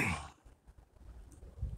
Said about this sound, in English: making me cough and choke and about gag up my own saliva